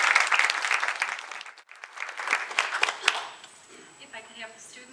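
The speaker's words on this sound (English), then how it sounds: "How about an applause for our trustees?" An audience claps for college trustees at a groundbreaking ceremony for a health professions building, a burst of applause that fades out after a couple of seconds, followed by scattered claps and murmuring.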